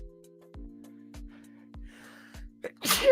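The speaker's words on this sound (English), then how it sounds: "hang on, I'm going to sneeze." A single loud sneeze bursts out at the end, preceded by a few quick sharp breaths and soft background tones.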